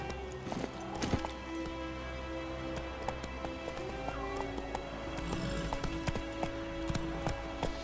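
Horse hooves clip-clopping at a trot in The Witcher 3, a steady rhythm under layered game ambience and music, with a horse whinny and brief character voices around it.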